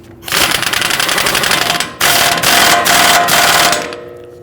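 A pneumatic impact wrench tightens the axle nut on a Ford Taurus wheel hub, hammering loudly in two close bursts of rapid rattling with a brief pause between them, with no talk.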